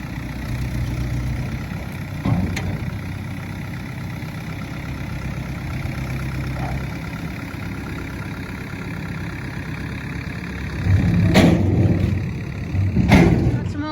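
A motor drones steadily while manure is unloaded from a sheep barn, a constant mid-low hum with a few heavier thumps and surges toward the end.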